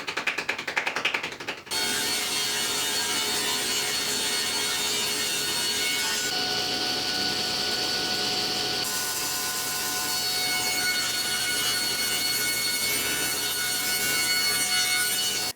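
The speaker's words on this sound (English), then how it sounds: "I just trimmed the runners down to the exact height of my miter slot" Wooden miter sled runners being trimmed to height with a power tool, a loud continuous whining cut that runs steadily for most of the time after a brief rougher start.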